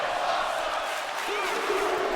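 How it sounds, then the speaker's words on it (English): Crowd at a wrestling tournament cheering and roaring steadily throughout, a dense, continuous wash of voices with no pauses. "The crowd is loving it."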